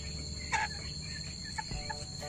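Backyard chickens kept at home give a few short clucks and chirps over a steady, faint background hum, with no talking.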